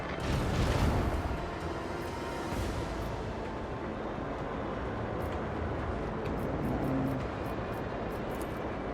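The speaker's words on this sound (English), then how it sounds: "Macro cannon, volley!" A macro cannon volley from a warship in the Warhammer 40000: Rogue Trader video game during a space station raid: a heavy, booming burst of fire that swells early and then rumbles on as a sustained low roar, with no talk.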